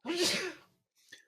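One close sneeze, a burst of breathy noise lasting about half a second, followed by a brief quieter breath or sniff after a pause.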